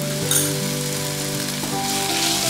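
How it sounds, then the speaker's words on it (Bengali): Mixed vegetables and grated boiled potato frying in a pan, a steady close sizzle that holds throughout, with a soft stirring scrape partway through. "ভালো করে এর সঙ্গে একটু ভেজে নেব।"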